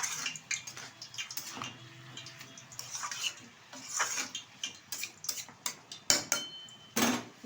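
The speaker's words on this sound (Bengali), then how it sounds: "আবার একটু নেড়ে চেড়ে দিচ্ছি" Snake gourd fry with chopped coriander and green chilli being stirred in a pan, a spatula clattering and scraping against the metal in quick irregular knocks, close and fairly loud with no talking.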